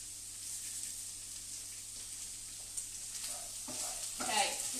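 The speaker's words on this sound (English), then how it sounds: "I've added the carrot and the potato just in the butter in the pan" Carrots and potatoes sauté in butter in a pan with a soft, steady sizzle, followed near the end by a few scraping stirs that briefly rise in loudness.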